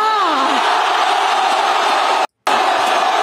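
A large crowd shouting and roaring loudly at once, a dense continuous wall of voices with a brief cut to silence near the end.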